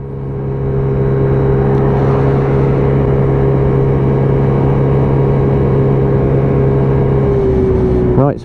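Steady, loud engine drone of a Lexmoto Echo motorcycle on a test ride through traffic, holding an even note throughout with a brief rise near the end.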